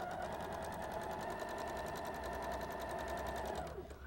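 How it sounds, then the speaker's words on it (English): Sewing machine chain sewing diamond-shaped quilt pieces, a fast continuous rhythmic whirring stitch that runs steadily up close before slowing and stopping at the end. "And we'll just chain sew."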